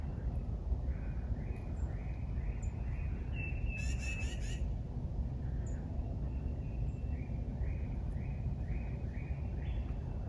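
Birds call outdoors at a morning gathering: faint, far-off chirps and squawks repeat through steady background noise, with one brief louder burst partway through.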